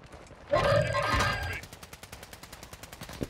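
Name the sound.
gunfire in the video game Warzone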